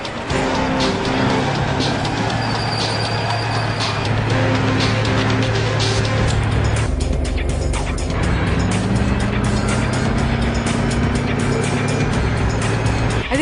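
An army tank driven and manoeuvred during a training mission, a loud continuous engine drone with shifting tonal whine and rising pitch, close and unbroken throughout.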